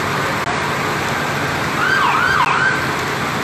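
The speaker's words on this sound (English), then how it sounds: "Look at the police car." A police car siren wails in the distance during a flood on a road in Dickson, Tennessee, rising and falling faintly over a steady rush of road and water noise.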